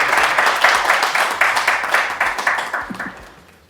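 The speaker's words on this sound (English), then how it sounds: "Please put your hands together for her." An audience applauds steadily to welcome a host at a book launch, a dense patter of many hands that fades out toward the end.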